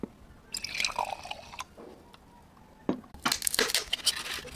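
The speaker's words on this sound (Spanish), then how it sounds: "Agregamos un poco de tíner o disolvente al pomo." Paint thinner or solvent is poured into a jar for homemade roof-sealing glue, with close liquid trickles and drips, then a burst of crinkly, crushing handling.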